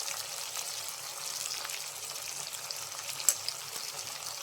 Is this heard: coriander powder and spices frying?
yes